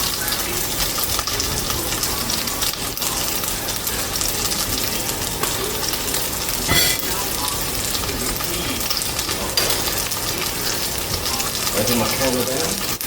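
Chicken or T-bone steak fries in a pan on a counter with a continuous, dense sizzle and crackle, loud and close, over faint running-water gushes. A voice talks intermittently beneath it.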